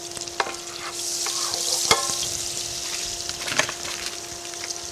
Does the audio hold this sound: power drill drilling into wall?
no